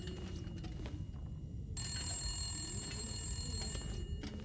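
An in-game telephone rings in The Long Dark: Wintermute story mode, a bright electronic ringing tone starting partway through and holding steadily for a couple of seconds over a low droning background.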